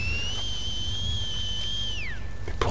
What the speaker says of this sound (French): Mais pourquoi il siffle?